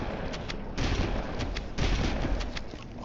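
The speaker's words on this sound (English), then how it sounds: "This shotgun is so good." Shotgun fire in the video game Halo CE, set in the Library level, with two heavy blasts standing out over a dense, continuous din of in-game combat noise.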